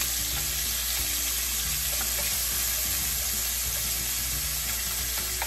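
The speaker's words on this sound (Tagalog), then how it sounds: "So habang piniprito nyo ang ating atay, ay inyo pong balik-balikin." Liver fries in a pan with a steady, continuous sizzle and crackle for several seconds, with occasional light scraping as it is turned, and no voices.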